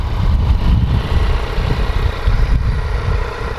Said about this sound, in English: So that's what it sounds like idling.